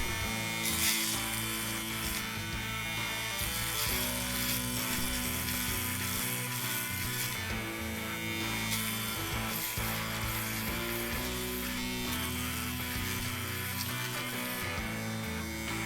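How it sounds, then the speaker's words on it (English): A close Aberlite Touch 2 electric foil shaver buzzes continuously while shaving a head, its motor whine steady with slight shifts as it moves across skin, no talking. "Let's see how this works with the foil shaver."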